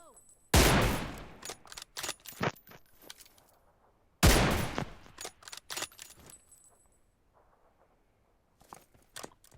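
Gunfire in the mobile battle-royale game PUBG Mobile: two loud, sharp bursts a few seconds apart, each tailing off into scattered clicks and light tapping, with near silence between them.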